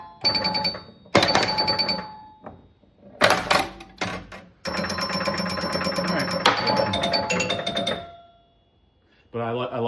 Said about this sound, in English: But I love the chimes. The chimes are great.